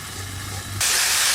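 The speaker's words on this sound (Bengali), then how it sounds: "একটুখানি জল দিচ্ছি মশলাটা কষানোর জন্য" Water poured into spice paste frying in a pan for a Bengali chital fish muitha curry: a sudden loud steaming hiss bursts up and keeps going after a short stretch of quieter low sizzling.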